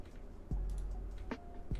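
A few isolated keystrokes on a Geon F1-88 plateless keyboard with Geon Black switches, faint and spaced apart, each a soft muffled thock against a quiet background.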